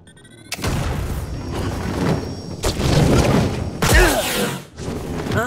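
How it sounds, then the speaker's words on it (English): Loud explosive booms and crashes from a flashbang attack in the video game Jedi: Fallen Order, with a sharp blast near the start and further heavy bursts around the middle and near the end. "Oh, no flashbang!"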